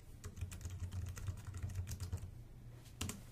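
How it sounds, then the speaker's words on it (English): Someone types a web address on a computer keyboard, with a steady run of quick, close key clicks over a low background hum and a brief louder burst of keystrokes near the end. "But Adam, go ahead and type that in"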